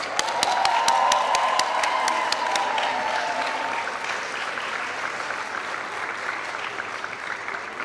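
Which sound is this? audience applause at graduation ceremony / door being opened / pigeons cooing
audience applause at graduation ceremony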